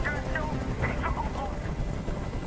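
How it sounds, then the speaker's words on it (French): A helicopter hovers overhead in the video game Detroit: Become Human, a continuous low rotor rumble and whine with voices speaking over it. "Je peux plus supporter ce bruit. Fais dégager cet hélicoptère,"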